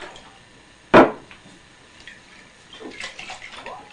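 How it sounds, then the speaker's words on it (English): A container of homemade oat grain milk gets shaken: one sharp knock against the container, then a brief slosh of liquid inside, close by and moderately loud. "sometimes it settles to the bottom, so just shake it up"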